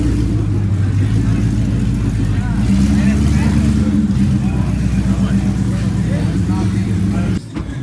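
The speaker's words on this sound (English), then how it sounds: "listen to that engine rumble" A loud, deep naturally aspirated Coyote V8 in a 2020 Ford Mustang on a dyno rumbles steadily at high revs for several seconds, throbbing low and close, then briefly dips near the end.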